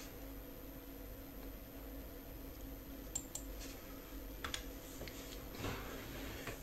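Light, sparse clicks of a computer keyboard as values are typed in while setting up long-range drone flight software, faint and scattered over a quiet steady hiss.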